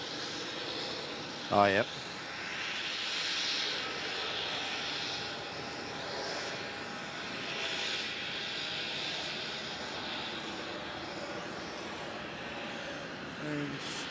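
A Boeing 787-9 Dreamliner airliner pushes back at Melbourne Airport in the evening, giving a steady, distant jet-engine rumble and hiss that holds throughout, with brief voices talking over it.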